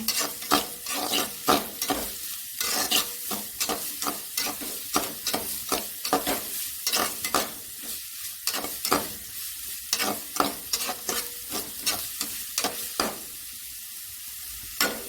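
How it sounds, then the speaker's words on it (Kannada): Onions cooking with salt in a hot pan for a fish sukka, sizzling steadily while a spoon scrapes and stirs them in repeated close, loud strokes with no voices. "ಇವಾಗ ಈರುಳ್ಳಿ ಬೇಗನೆ ಬೇಯುತ್ತೆ"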